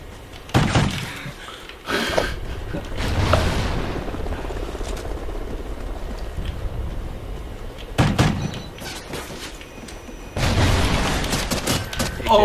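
Gunfire from the Call of Duty Ghosts video game comes in several loud bursts and single heavy shots, separated by quieter stretches of game ambience.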